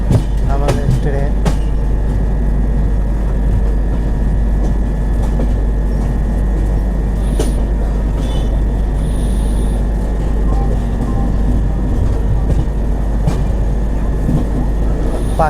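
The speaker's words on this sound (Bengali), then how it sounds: "লাইন চেঞ্জ হচ্ছে, পাশের লাইন থেকে এই লাইনে চেপে যাচ্ছে আমাদের ট্রেন।" The Anga Express (12254) passenger train crosses onto an adjacent track near Bhubaneswar Junction with a loud, continuous rumble and rattling wheel noise, plus a few sharp clanks early on and a steady hum throughout.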